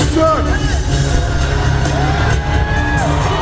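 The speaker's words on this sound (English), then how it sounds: "I didn't hear a lot of people cheering. I heard some." An audience cheers in a short replayed clip, with loud whoops, yells and shouts from a crowd spread across the whole span, some voices rising above the general din.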